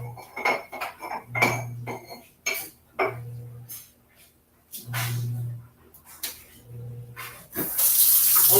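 A kitchen faucet runs water into a sink to heat up, with intermittent splashing and rushing flow, clattering dishes and utensils, and a low hum pulsing on and off in the background.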